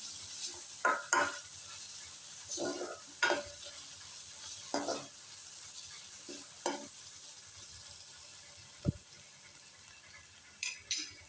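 Chicken frying in a curry pan with a soft, steady sizzle under intermittent scraping stir strokes and light clatters of a spoon against the pan, fairly quiet and close.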